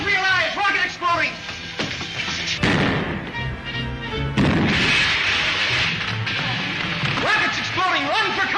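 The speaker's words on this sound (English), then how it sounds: "Rockets exploding!" Rockets explode in a 1939 Buck Rogers science-fiction film serial, with heavy booming blasts and crashing rumbles, and frantic shouting voices over and between them.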